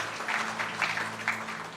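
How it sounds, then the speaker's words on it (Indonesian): A church congregation claps together during a sermon, a soft, fairly distant patter of applause with a few louder swells, heard over a faint steady hum. "Berikan tepuk tangan buat Tuhan."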